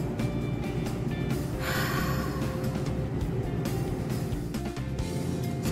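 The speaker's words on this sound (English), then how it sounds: "Take a deep breath in and out." A slow, deep breath is drawn in and let back out, a soft close airy inhale followed by an exhale over a quiet background.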